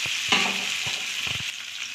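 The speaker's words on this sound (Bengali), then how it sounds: "তেল গরম হয়ে গেছে, এই আলুগুলো দিলাম।" Boiled potatoes hit hot oil and fry with a loud, constant sizzle, broken by a few short scraping stir sounds, with no voices.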